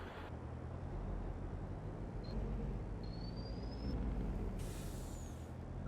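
A big tipper truck engine idles in a steady low rumble, close and constant, with a brief hiss of air near the end.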